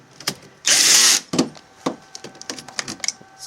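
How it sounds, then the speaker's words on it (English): A torque-limited power bolt tightener driving bolts during a Vectrix electric scooter lithium battery install: one loud, close, high whirring burst of about half a second, followed by scattered light clicks and knocks of parts and tools. "then you get to use your fancy torque limited bolt tightener"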